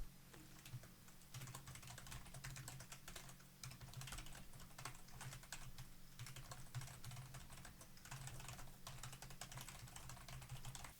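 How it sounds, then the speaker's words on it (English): Rapid, steady typing on a computer keyboard, a continuous soft clatter of keys heard faintly from behind a Tonor TC20 microphone, with no talking. "this is a keyboard test now to see how much volume this microphone actually picks up from the back"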